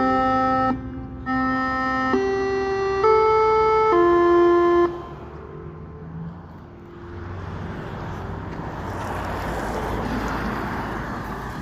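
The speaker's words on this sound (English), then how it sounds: "that was a daily tsunami warning alert test system" A daily tsunami warning siren test plays a loud sequence of stepped electronic tones, each pitch held briefly before the next. The tones then cut off, leaving a quieter wash of broadband outdoor noise.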